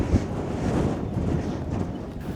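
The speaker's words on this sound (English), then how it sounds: "There's a lot of wind up here." Strong wind buffets the microphone on a hilltop along the Old Man of Storr hiking trail in Scotland, a loud, constant low rumble with no speech.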